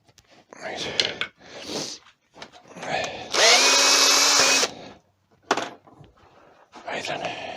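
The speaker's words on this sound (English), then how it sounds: "which is drilling these big holes." A drill boring large holes in wood during a wood turning project, with a loud steady whine lasting about a second amid bursts of close workshop handling and soft speech.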